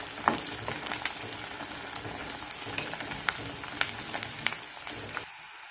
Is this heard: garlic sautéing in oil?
yes